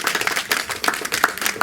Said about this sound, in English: Please, a round of applause for this,